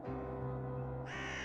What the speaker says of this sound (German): Du hast die Vögel verscheucht.